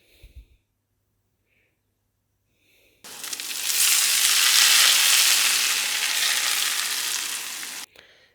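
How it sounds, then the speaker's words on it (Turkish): After a near-silent pause, butter hits hot Turkish minced meat (kıyma mıklaması) and bursts into a loud, even sizzle for about five seconds before it cuts off abruptly. "Şimdi üzerine artık tereyağını koyuyorum."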